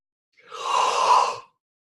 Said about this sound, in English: Just go ahead and make a big old yawn.